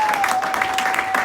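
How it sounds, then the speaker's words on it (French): A church congregation applauds, a short burst of dense, steady clapping with a faint voice mixed in behind it. "Est-ce qu'on peut acclamer pour la parole?"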